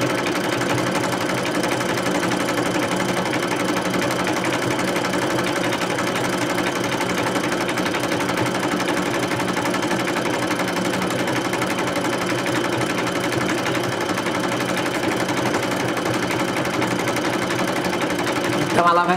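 Sewing machine stitching crivo openwork embroidery runs in a continuous, even, rapid mechanical whir and clatter from start to finish, close and steady without pauses.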